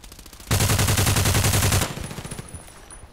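Rapid pistol fire from an M1911A1, Colt Python Elite or Beretta in the shooter game Contract Wars, a dense loud burst of shots lasting over a second, then fading echoing tail.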